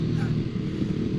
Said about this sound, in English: you can't beat the Ducati sound